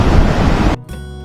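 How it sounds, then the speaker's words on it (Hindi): Large volume of water pouring over the top of an overflowing dam at Wanakbori, a loud, dense roaring rush that cuts off abruptly near the end, leaving a quieter low hum. "ये ओवरफ्लोइंग डैम है, मतलब ओवर, इसके ऊपर से पानी जाता ही रहता है."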